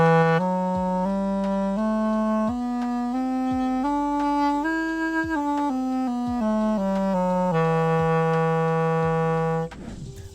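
A tuboe wind instrument is played with warm, soft breath, a series of sustained mellow tones stepping between pitches, close and steady, ending with a brief breathy release.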